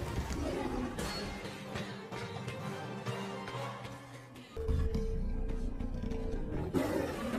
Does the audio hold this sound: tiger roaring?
yes